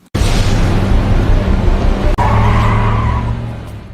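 A car speeds away with its tires skidding and squealing loudly, the roar sustained and close, broken by a brief cut before the sound fades gradually.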